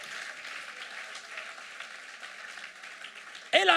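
A church congregation applauds with steady, dense clapping throughout, ending in a sudden louder burst.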